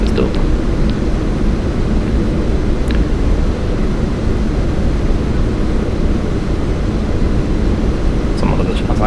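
Airbus airliner engines banking through a turn in Flight Simulator X, a steady, loud broadband roar and hum that holds constant throughout.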